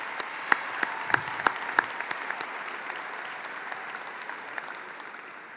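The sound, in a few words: applause for graduates' families at commencement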